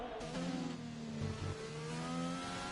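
A McLaren race car's engine accelerates in the Singapore round of a racing video game, with loud layered harmonics climbing and steadying continuously throughout.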